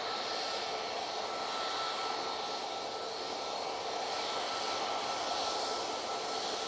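A Tui Boeing 737 Max 8 airliner comes down at Manchester Airport, a constant hissing jet-engine roar that stays loud and even throughout, with no voices present.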